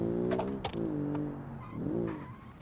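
A sports car engine in a video game hums and revs with small pops and crackles on the overrun, steady and close with no talking.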